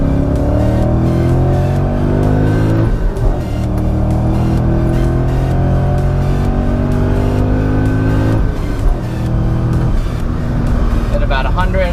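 A supercharged BMW M5 drops into second and accelerates hard out of a tight hairpin on a coned track. The engine note climbs loudly and continuously with gear-change dips, heard from inside the car.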